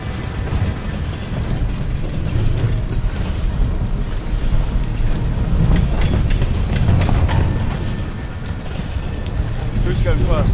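A train rolls along in the Call of Duty: Vanguard game, a steady low rumble with air-brake hisses and rail noise, loud and continuous amid battle sounds and voices talking over it.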